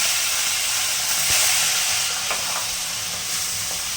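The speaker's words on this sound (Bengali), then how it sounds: "মাছের মাথাগুলো ভালো করে ভেজে তুলে নেব" Katla fish heads sizzle and hiss loudly in hot oil, a constant crackling fry with a few faint clinks of stirring.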